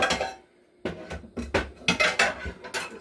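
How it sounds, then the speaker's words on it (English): Meat under plastic wrap being smacked with a pan while making katsu curry, a series of dull, close thumps in an irregular run after a short pause, with no talking. "Smacking something with a pan."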